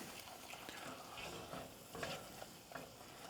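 A sweet potato mixture with melted butter and brown sugar is stirred in a hot pan. A faint, continuous scrape of stirring runs under a soft sizzle.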